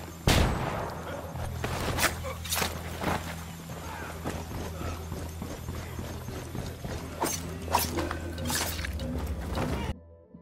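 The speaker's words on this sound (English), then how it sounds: "Throwing a flashbang." A flashbang grenade goes off during a Ghost Recon Wildlands firefight: one sharp, loud bang opens the sequence, followed by scattered gunshots and further bangs at irregular intervals.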